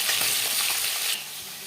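Katla fish pieces fry hard in hot oil for a wedding-style kalia, a bright continuous sizzle that drops off suddenly near the end, leaving a quieter hiss.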